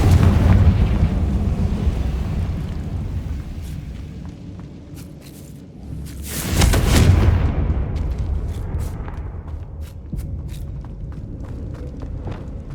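The Confringo blasting spell goes off in the video game Hogwarts Legacy as a single heavy, booming burst midway through, standing out above a low, continuous game ambience.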